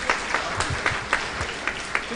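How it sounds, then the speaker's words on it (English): A small auditorium audience applauding at an event, a thin, steady patter of clapping with a few distinct louder claps standing out, moderately quiet and somewhat distant. "Can we have a round of applause, please?"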